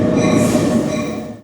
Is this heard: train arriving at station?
yes